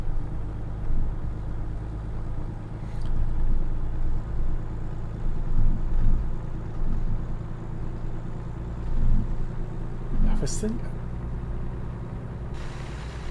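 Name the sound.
other truck's engine in American Truck Simulator video game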